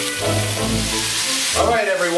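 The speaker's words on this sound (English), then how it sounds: "You see it popping, your stove's going to be a mess." Beef braciole frying in a hot pan, a steady close sizzle with sharp pops of spattering fat, while a voice talks over it.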